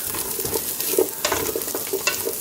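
Salami sizzles in oil in a pot for Puerto Rican sopa de salchichón, a steady frying hiss broken by scraping stirs and small pops, close and moderately loud.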